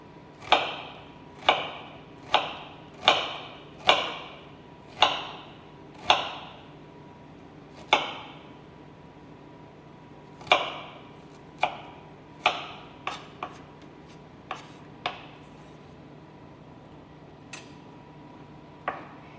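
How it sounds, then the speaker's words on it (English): A knife dices onion into a fine brunoise on a cutting board, sharp distinct chops at a steady pace, close and clear, then spacing out into lighter, irregular taps. "I'm gonna do a brunoise, which is kind of like a small mince, just because I kind of hate getting large chunks of onion"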